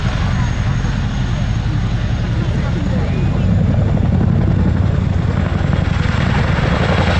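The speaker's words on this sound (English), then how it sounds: "Next, the aircraft will conduct an over-the-shoulder departure" A military helicopter makes an over-the-shoulder departure, its loud rotor thump and engine roar steady and close throughout, with a voice talking over it.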